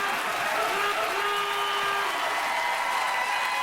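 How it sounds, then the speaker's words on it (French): Studio audience applause for the improvisers at the close of an improv comedy sketch show, steady dense clapping throughout, with no speech. "On applaudit nos improvisateurs de ce soir."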